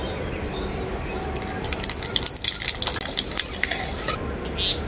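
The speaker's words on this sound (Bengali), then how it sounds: "ওই তেলের মধ্যে দিয়ে দেব কালো জিরে" Black cumin (nigella) seeds fry in hot oil left from frying bitter gourd, a steady loud sizzle with sharp crackles and pops spattering through it, no voices.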